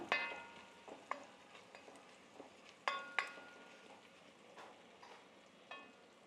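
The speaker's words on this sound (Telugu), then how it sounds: "ఇట్లా బాగా కలిదిప్పుకోవాలి సాల్ట్ వేసిన తర్వాత" A spoon stirs salt into bottle gourd curry in a pan, scraping in soft, irregular strokes with light clinks against the metal and a faint sizzle underneath.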